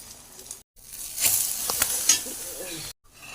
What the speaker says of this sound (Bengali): তেল গরম হয়ে গেছে, এবার অমলেটটা দিয়ে দেবো